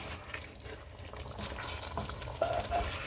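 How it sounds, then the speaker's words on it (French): A spoon works through a pot of oxtail stew with cabbage and peanut paste, giving soft, wet stirring and bubbling sounds, faint and steady, with a couple of brief clinks near the end. "Je rajoute la pâte. Il faut bien remuer pour que ça ne colle pas."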